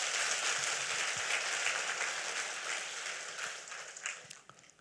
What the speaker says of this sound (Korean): 하나님께 박수로 영광 돌리세요.